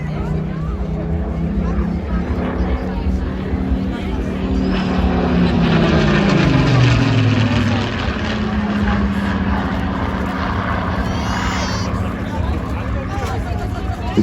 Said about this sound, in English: we all call this the Rolls-Royce Spitfire